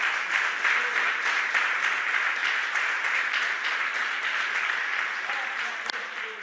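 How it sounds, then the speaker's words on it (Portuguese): Church congregation in Campina Grande applauds during a sermon, a steady patter of many hands clapping in a reverberant hall, slowly fading toward the end. "Irmão Olivando, pode aplaudir ao Senhor."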